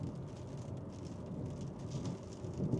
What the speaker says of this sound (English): That sounds like the miserable rain.